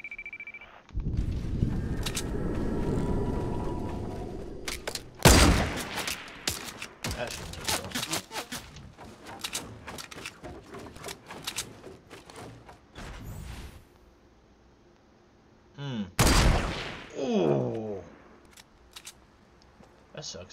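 Gunfire in the video game Fortnite Battle Royale, with bursts of sharp shots and loud impacts scattered among footsteps and other game sounds, louder near the middle and again toward the end.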